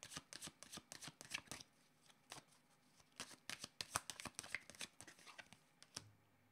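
Tarot cards being shuffled by hand, a close, quiet series of crisp riffling flutters and soft slaps in irregular quick bursts, ending with a faint low hum.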